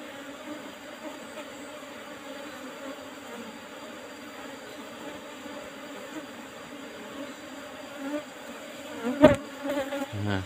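Asian honey bees (Apis cerana) buzz at a hive trap in a steady, close drone, with a few louder knocks and rustles near the end.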